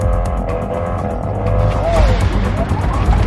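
A 1,914 hp Rimac Nevera electric hypercar launches hard down an airstrip, a loud close rush of wind, tire and drivetrain noise with a brief rising whine.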